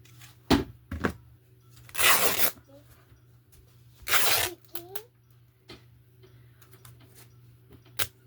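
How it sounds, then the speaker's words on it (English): A fabric pillowcase being cut and then torn by hand, with two loud, bursty ripping sounds, short snips and clicks between them, and a steady low hum under it all in a quiet room. "So now all I'm going to do is just cut and rip."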